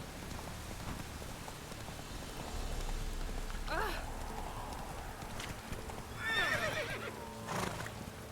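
Geralt's horse Roach gallops through the rain in The Witcher 3 game, hooves drumming steadily under the downpour, with a loud whinny near the end.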